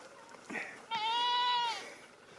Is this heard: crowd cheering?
no